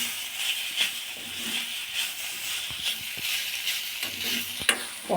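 Curry stirred in a steel wok brought from the Gulf: a steady close sizzle and hiss with scattered scraping knocks of a spoon against the metal, no talk over it.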